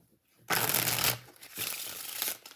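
A tarot card deck being shuffled, two crisp riffling bursts of cards close by, the first louder and longer, separated by a short quiet gap.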